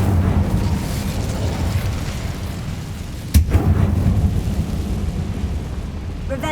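Fire spell cast in Hogwarts Legacy: a single sharp burst partway through over a steady low rumbling game background.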